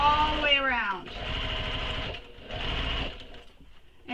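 A sewing machine runs steadily as it stitches around a mini crossbody bag, its dense mechanical whir holding for several seconds with a short dip in the middle.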